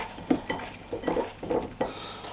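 Gnocchi and cauliflower being mixed with oil in a bowl, soft scraping and clinking of a utensil in irregular strokes, close and fairly quiet.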